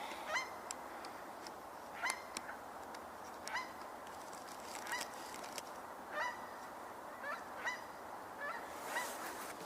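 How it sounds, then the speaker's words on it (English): Geese honking somewhere overhead on a cloudy night, faint, distant calls repeating irregularly over a steady background hiss, no talk. "I hear geese above me, at least one."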